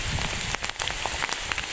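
Heavy rain pours over a sugarcane field where holes are being dug for planting Japanese green cane, a dense steady hiss of drops close by with brief louder spatters and no voices.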